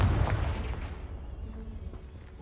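A fire-blast spell in Hogwarts Legacy goes off as a single loud, booming explosion that rumbles and fades over a couple of seconds.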